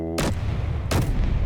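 Turret cannons in Space Engineers fire two loud booming shots about three-quarters of a second apart, each a sharp blast with a rumbling tail, over steady low engine drone.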